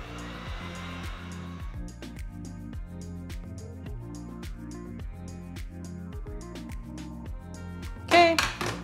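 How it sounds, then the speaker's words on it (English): An airbrush spraying warmed cocoa butter for chocolate molds gives a steady airy hiss at first, then fades under rhythmic background music, with a brief louder burst near the end. "the airbrush is pretty warm too. You can test the airflow a little. It does have air coming out"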